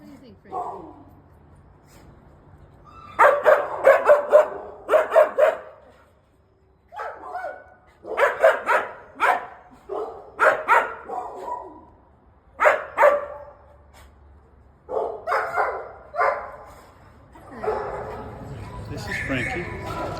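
Several dogs barking in bursts inside the kennels of the Waterbury dog pound, loud and close and echoing, with short pauses, some yips and whimpers, and people talking at times.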